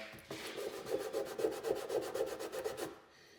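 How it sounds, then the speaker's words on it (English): A green Scotch-Brite pad is rubbed briskly over a vintage Honda motorcycle part in about a dozen quick, even back-and-forth strokes. The scratchy scrubbing is close and clear, then stops. "I'm not even going to do sandpaper, I'm just going to do a green Scotch-Brite pad."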